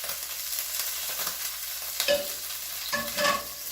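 Butter and olive oil hit a too-hot pan and sizzle loudly and steadily, with crackling spits and a couple of brief louder flare-ups near the end; no talking.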